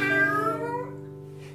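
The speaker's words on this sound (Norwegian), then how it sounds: "Og plutselig kom store, stygge katten." A cat gives one drawn-out meow that slowly fades over a steady low hum, then a brief click at the end.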